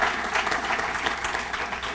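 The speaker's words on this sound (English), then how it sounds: "Africa Newark needs a round of applause." Audience applauding Africa Newark at a Kwanzaa community gathering: dense, sustained clapping from a crowd, steady and fairly close, with no talk over it.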